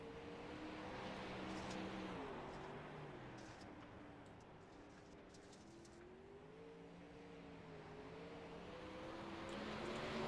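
Number 57 race car, a 4-cylinder hobby stock at a short-track evening event, drives practice laps; a steady engine drone rises and falls in pitch as it circles, louder at the start and end as it passes nearer.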